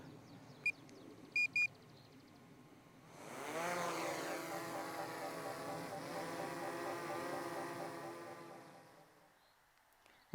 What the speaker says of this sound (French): on va décoller avec le Mavic 3 Pro